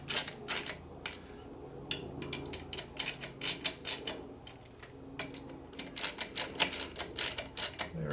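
Rapid irregular metallic clicks of a ratchet wrench tightening the aluminum front cover nuts on an MGB three-synchro gearbox, coming in short quick bursts with small pauses, close and fairly quiet, no talking.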